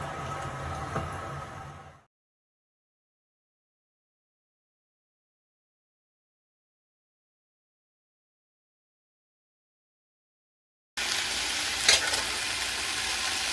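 Homemade bacon frying in a pan, a steady crackling sizzle for about two seconds, then silence, then the sizzle returns louder and brighter with a sharp pop, heard alone with no talking.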